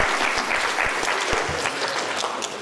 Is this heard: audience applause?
yes